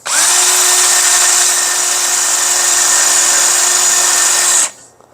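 Power drill boring through thin metal with a larger bit, a loud steady high whine held for several seconds before cutting off abruptly.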